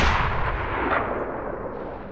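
Loud sniper rifle shot from the video game Sniper Ghost Warrior 2, a single heavy boom opening with a broad blast that trails into a long rumbling echo and decay.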